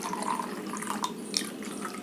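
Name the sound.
water being poured into a container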